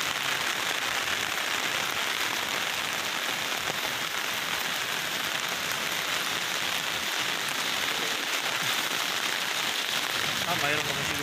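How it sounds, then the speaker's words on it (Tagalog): A steady downpour of heavy rain hisses loudly and continuously, with faint voices barely audible beneath it. "Lakas ng ulan."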